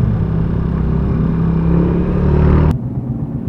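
Overloaded motorcycle riding with a heavy cargo load, a loud steady engine drone with wind rumble that cuts off abruptly near the end, leaving a quieter engine hum.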